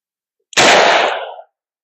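A single sharp, loud gunshot from a .45 ACP +P Buffalo Bore 255-grain hardcast round, a close crack that decays quickly into silence.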